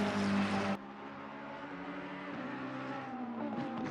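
Sim racing cars, a McLaren and a Ferrari, battle for position at Zolder in an endurance event: a brief loud engine roar cuts out, then a quieter steady engine drone builds with rising revs.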